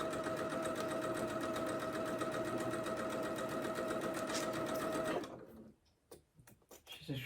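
Sewing machine chain piecing small quilt patches, a fast steady mechanical whir with rapid needle ticking for about five seconds, then stopping into quieter handling clicks.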